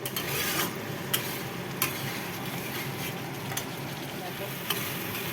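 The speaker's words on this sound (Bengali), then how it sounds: "মশলা ভাজা হয়ে গেছে" Spices fry in a pan under a constant close sizzle, with a spatula scraping through them in several distinct strokes.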